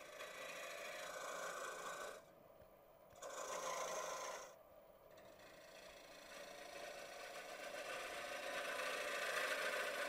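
A half-inch spindle gouge cuts wood on a lathe while turning a segmented box, giving a steady rasping scrape that stops twice briefly as the tool lifts, then runs on continuously and close, with no talk.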